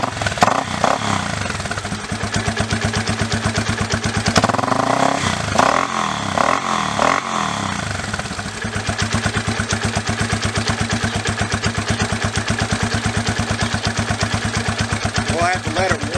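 A cold Raptor engine idling while it warms up, a steady loud rapid mechanical chug with some rattly clatter. Someone talks over it throughout.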